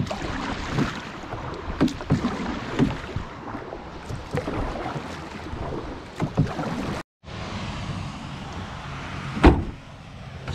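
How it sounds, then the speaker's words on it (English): Paddle strokes from a small rowboat, canoe or kayak crossing water during bow season, steady splashing and knocking against the hull at close range, with a brief gap and one sharper clunk near the end. "Alright, I'm gonna start paddling back."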